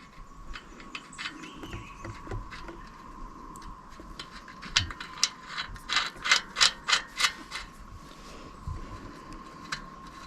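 A hand ratchet tightens a nut down over a big washer on a bike-style fender mount, first with soft scattered clicks, then a quick run of sharp, close ratcheting bursts in the middle, with a few clicks trailing off.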